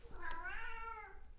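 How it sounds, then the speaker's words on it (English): A pet cat gives one drawn-out meow that rises and then trails off, close but soft, over a faint background hum. "Sorry, Lulu, that's my cat."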